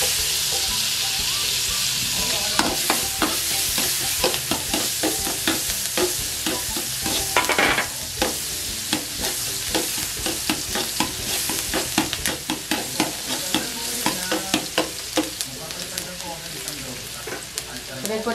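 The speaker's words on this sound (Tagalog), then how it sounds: "Ito po, lagay po natin ang bawang at sibuyas." Garlic and onion sizzle steadily in a hot pan for spaghetti, with a loud continuous frying hiss broken by frequent scraping stirs, up close and with no talk.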